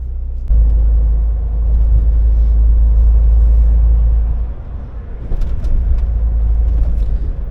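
Heavy truck's engine brake engaged in two stages on a long-haul trip from Germany to Turkey, a loud deep rumbling drone that kicks in abruptly, dips briefly, then resumes steadily inside the cab.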